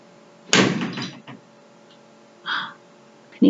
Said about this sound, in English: Oh, my door's banging.